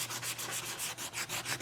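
Rhythmic back-and-forth scratching of sandpaper rubbed by hand along the live edge of a wooden bar top, close and steady, each stroke rising and falling in a regular pattern.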